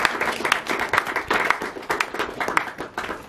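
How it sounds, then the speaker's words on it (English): A tour group outdoors at Cochem Castle in Germany claps in a short, steady round of applause. The clapping is mid-distance and lasts a few seconds with a slightly uneven rhythm. "Give yourselves a round of applause."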